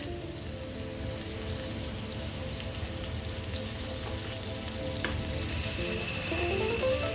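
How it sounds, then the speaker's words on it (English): Steady, dense sizzling of patvelia patties frying in a hot pan, continuous crackle throughout with no talking. "Whilst our Patvelias are frying"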